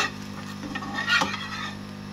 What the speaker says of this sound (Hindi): तो ब्रेड में फ्राई कर रही हूँ।